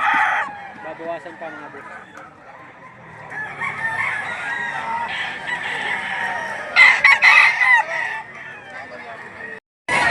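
Roosters crow repeatedly at a chicken market in Lipa, Batangas, several birds calling near and farther off with clucking between, while someone speaks over them.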